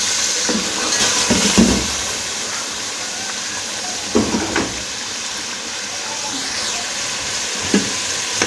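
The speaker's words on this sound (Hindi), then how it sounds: "देखें सारा हमारा चिकन भून गया है।" Chicken frying and being stirred in a pot for biryani, a steady sizzle with several scraping stirs of the spoon against the pan, close and fairly loud throughout.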